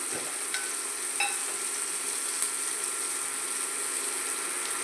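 Chopped tomato with chili powder fries in a pan, a steady dense sizzle held at an even level close by, with a couple of faint clinks of a spoon or spatula and no talking.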